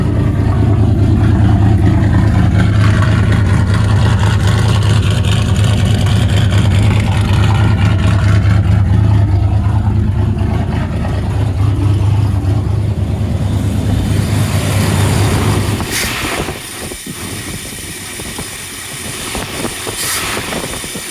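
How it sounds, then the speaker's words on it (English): A loud, close Ford engine with a straight-pipe exhaust idles at about 500 RPM with a deep, raw, uneven drone, which eases off and turns rougher near the end. "it's idling at like 500 RPM"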